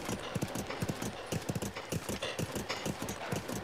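Horse hooves in the video game Zelda Breath of the Wild, a rapid, even clip-clop of galloping steps, close and steady, without any speech.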